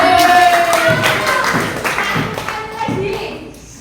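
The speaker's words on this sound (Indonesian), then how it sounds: "Oke, ya tepuk tangan" Classroom applause during a primary school lesson: children clapping in a dense, uneven burst that is loud and close, with young voices shouting and chattering over it, tapering off after about three seconds.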